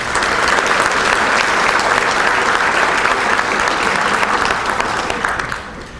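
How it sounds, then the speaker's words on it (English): Loud, sustained applause from a breakfast-meeting audience fills the room for several seconds, a dense wash of clapping that tapers off at the end. "let's have a round of applause for UConn Health."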